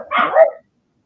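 Little puppies let out a short burst of high yips and barks, close and fairly loud, lasting about half a second before falling silent.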